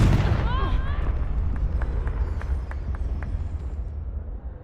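A Confringo fire spell explodes in Hogwarts Legacy with a heavy, booming blast and a rumbling low tail that slowly fades. A short whooshing cast starts it, and faint crackles follow.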